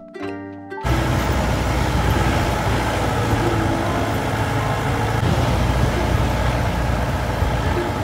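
Steady engine and road roar of a vehicle passing a slow truck on a narrow mountain road, loud and continuous throughout, with no talk.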